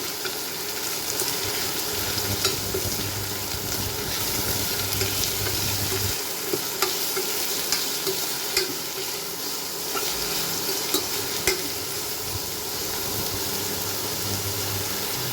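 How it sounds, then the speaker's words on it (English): Onions fry in a hot pan after curry leaves with a constant crackling sizzle and occasional sharper pops, with no one speaking. "Fry onions very nicely."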